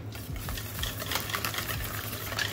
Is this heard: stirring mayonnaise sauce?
yes